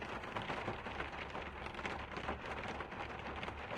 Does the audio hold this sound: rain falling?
yes